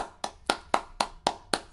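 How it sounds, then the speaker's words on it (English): Six crisp hand claps at an even, brisk pace, close and clear with nothing else around them. "I got to give a big two thumbs up and a big round of applause"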